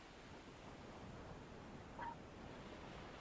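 Ocean surf rolls in and falls back as a soft, constant wash, with a brief faint bird call standing out near the middle; no one speaks.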